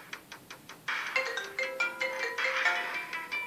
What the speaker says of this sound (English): My iPhone is ringing.